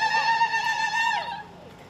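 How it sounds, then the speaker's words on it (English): A high, trilling zaghareet ululation given as a cheer for belly dancers at an outdoor hippie festival, one sustained wavering vocal trill lasting about a second and a half before trailing off, heard alone and fairly close. "Number one is called a zagret, and it sounds like this."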